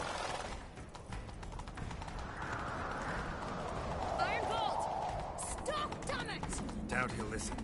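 Rhythmic hoofbeats of a galloping horse in the video game The Witcher 3: Wild Hunt pound steadily throughout, with voices and game-like sound effects layered over them.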